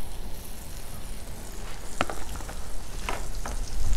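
Butter sizzling with steak on a 36-inch Blackstone griddle: a constant close crackle and hiss, with a few sharper pops and spatters scattered through, and no voices.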